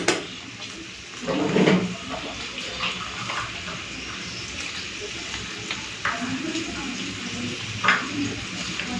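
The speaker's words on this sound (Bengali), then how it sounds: "তো আলু আর ঢেঁড়স একটুখানি হালকা করে ভেজে নিয়েছি" Potatoes and okra fry in a pan, a steady sizzle with scraping and stirring knocks, fairly close, under a person talking.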